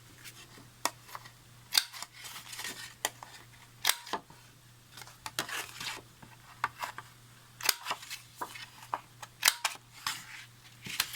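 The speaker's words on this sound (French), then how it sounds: "avec cette perforatrice, je vais poinçonner les angles du bas avec l'angle le plus petit" A handheld paper corner punch rounds the bottom corners of card bases, producing sharp, crisp clicks and snaps at irregular intervals, some louder than others, over a quiet background with no talking.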